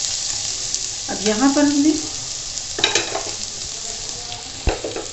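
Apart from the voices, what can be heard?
onions being stir-fried in a hot pan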